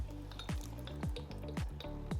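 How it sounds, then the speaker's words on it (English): Worcestershire sauce glugs out of a bottle into a mixing bowl during burger prep: several quick, rhythmic gurgling pulses, close and soft, with no talking. "we're gonna put some Worcestershire sauce in. Do you wanna pour some of that in the bowl?"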